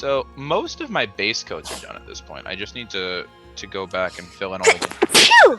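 A single sharp sneeze bursts out near the end, following a stretch of steady indoor talk by a nearby speaker.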